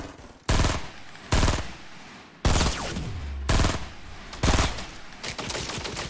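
Gunfire from the video game Fortnite: several loud, sharp bursts of shots arrive in separate clusters, some rapid like automatic fire, with reverberant tails between them and no voices.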